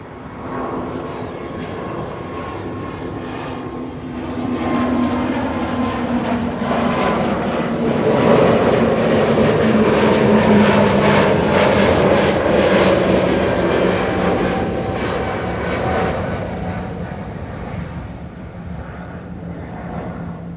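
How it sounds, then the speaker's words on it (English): A Vueling Airbus A320neo departs for Alicante, its engine roar swelling steadily to a loud peak midway and then slowly fading, a continuous broad rumble with no talk over it. "Next up, Vueling to Alicante. A320neo."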